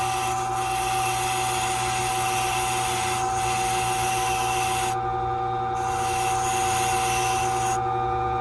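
A Silca key cutting machine cuts a key with a continuous grinding whir. The tone shifts and briefly drops out at a few points as the blank is angled and worked against the cutter, with no one speaking.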